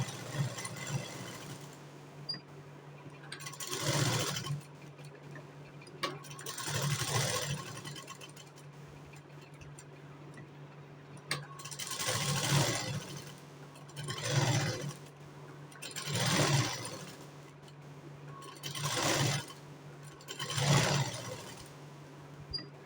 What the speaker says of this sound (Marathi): आता आपल्याला ह्याला अर्ध्या इंचावरती शिलाई मारून घ्यायची आहे परत.